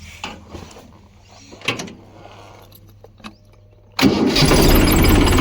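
A tractor with a toothed harrow attached starts up on a farm: after a few faint clicks and clunks, the engine catches abruptly and settles into a loud, steady running roar.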